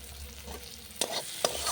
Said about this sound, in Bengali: একটু ভালোভাবে মশলাটাকে কষিয়ে নিতে হবে